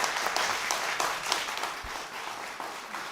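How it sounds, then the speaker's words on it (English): Debate audience applauding steadily in a dense wash of clapping, moderately loud and sustained, with a faint voice underneath. "please hold your applause or displeasure if you would"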